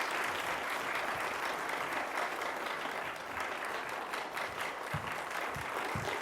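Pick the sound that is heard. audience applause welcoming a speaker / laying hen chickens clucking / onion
audience applause welcoming a speaker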